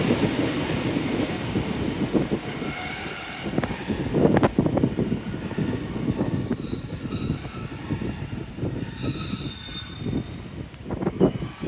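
Passenger train arriving at a platform at Teignmouth station on a wet, windy day, steel wheels screeching in a long high-pitched squeal over rumbling carriages and wind buffeting the microphone.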